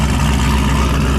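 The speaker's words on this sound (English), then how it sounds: "What you're hearing is a full 3-inch aluminum exhaust, no mufflers" A 370-cubic-inch Pro Charge engine idles through a full 3-inch aluminum exhaust with no mufflers, giving a loud, steady, deep rumble close by with no voices over it.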